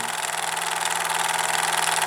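A vintage twin-cylinder live steam engine, 1 cm3, on a 1961 Anton model racing boat, chugging in a fast, even, buzzing rhythm with hissing steam, close and loud, with no voices.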